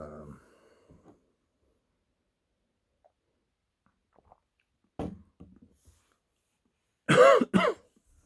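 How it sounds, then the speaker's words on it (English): Near silence with faint breathy noises, then a sharp cough, and a loud double cough close to the mic toward the end, from a man tasting a Russian imperial stout beer. "That's not a COVID-19 cough, by the way"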